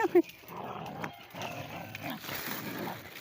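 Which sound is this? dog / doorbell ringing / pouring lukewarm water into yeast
dog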